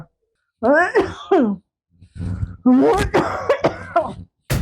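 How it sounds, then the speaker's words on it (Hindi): An older woman coughs in a few harsh, strained bursts with groaning, moaning sounds between them, close to the listener. "मैं मम्मी जी से परेशान हो गई हूँ, ये उनकी सुबह शाम की खांसी से"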